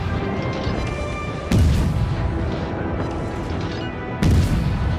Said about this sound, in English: Now we constantly bombarding him with both our guns, but turrets in this case